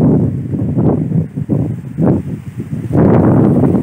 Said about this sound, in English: Man, it's windy today.